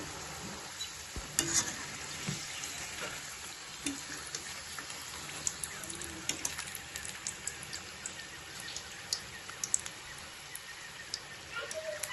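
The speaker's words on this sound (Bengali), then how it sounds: "আমি সবগুলো ভেজে নিব পিঠা" Pitha frying in hot oil, a faint steady sizzle with scattered small pops and crackles, heard quietly from close by with no voices over it.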